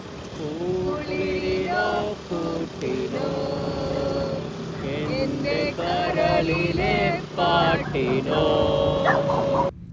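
Several dogs bark and yip repeatedly in fits and starts over a steady background hum, fairly close and loud throughout.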